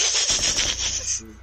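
A quick burst of rapid automatic gunfire during a Rainbow Six Siege ranked match on the Favela map, loud and close, with several sharp shots packed into about a second before it cuts off.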